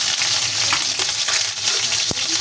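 Ginger, onion and garlic sautéing in a pan for chicken feet adobo with chilli, a steady close sizzle with stirring scrapes and one sharp utensil knock near the end.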